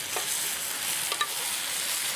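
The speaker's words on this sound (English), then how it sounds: "Into that, we add this wonderful mixture of ground coconut," Curry leaves sizzling in hot oil with ground coconut, chilies, turmeric and ginger on an outdoor beach, a loud continuous frying hiss with a few faint stirring clicks and no speech.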